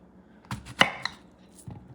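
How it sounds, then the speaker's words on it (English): A knife cuts through catfish on a board for escabeche, giving a few sharp, close chopping knocks spaced apart, the loudest near the middle, with quiet pauses between and no talking. "And then I'm going to slice it"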